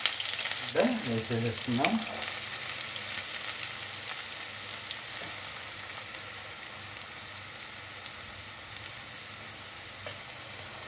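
Green chillies and onions fry in hot oil for a mutton brain curry, giving a steady close sizzle throughout, with a brief voice and a couple of louder bursts early on.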